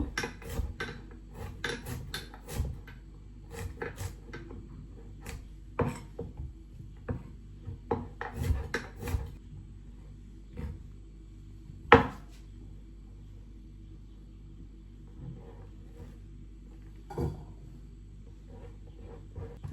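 A knife slices vegetables thinly on a board, making irregular close taps and thuds, some in quick clusters and others spaced out, with quiet gaps between and no talking.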